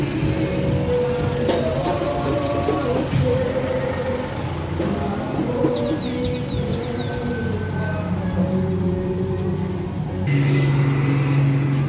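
Cars drive past a petrol station on a busy street in Bukavu, Congo, engines humming and passing one after another over a steady traffic din, with a few faint higher chirps in the background.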